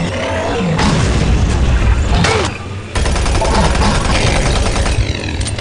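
Loud, dense gunfire and booming blasts fill the whole stretch in Doom 3 BFG, with rapid repeated shots and a brief lull midway before the barrage resumes.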